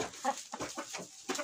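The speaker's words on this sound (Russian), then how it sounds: "вот мы сейчас находимся в отсеке у пушкинской породы кур" Pushkin breed chickens in their coop, clucking in short, close, fairly quiet bursts spread over a second and a half.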